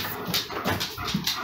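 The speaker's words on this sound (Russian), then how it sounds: "Может, это собака была?" A dog makes short whimpering yips close by, a few quick soft cries within a second or so over faint background noise.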